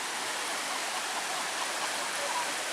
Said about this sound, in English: Now we come up to the Big Carp River.